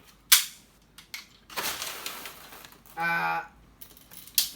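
A green CM700A M40A5-style airsoft spring sniper rifle, bolt-action and single-shot, fires 0.20 g BBs in a power test: sharp close snaps and bolt-cycling clicks, with a brief metallic ringing rattle.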